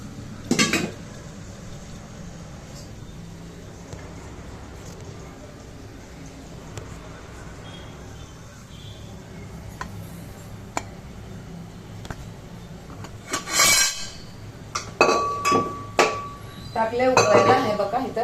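Pots and metal utensils clink and clatter in a home kitchen as water is set to boil, scattered sharp knocks with a busier burst of clanking near the end over a quiet background.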